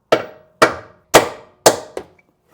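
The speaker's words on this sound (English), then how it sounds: "once it's lined up, you can put it on and hammer on it a bit," A hammer strikes a control arm on a Hyundai Santa Fe (2012–2018) four times in a steady rhythm, then lands a lighter fifth blow. Each impact is a sharp, close metallic knock with a brief ringing decay.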